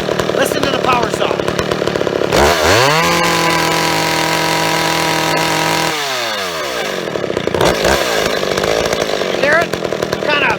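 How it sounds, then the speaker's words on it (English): An old chainsaw runs continuously while its carburetor is being tuned, its engine pitch sweeping up into a sustained high rev, holding, then dropping back to a rough, boggy idle, loud and close throughout. "Listen to the power saw."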